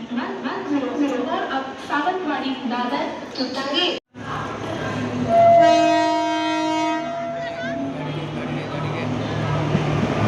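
A Dombivli local train runs with a steady rumbling rattle of cars, and a long, loud horn blast sounds midway, while people talk nearby throughout.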